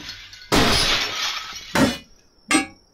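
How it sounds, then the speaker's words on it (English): Glass breaks in the video game Dysmantle: three loud shattering crashes, the first longest with a lingering tinkle and two shorter smashes following close together. "That sounded like I was breaking glass."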